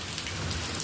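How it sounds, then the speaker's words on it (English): Heavy rain pours down steadily, a dense close hiss of drops pattering on surfaces with no voices. "And then it got sunny, but now it's freaking pouring."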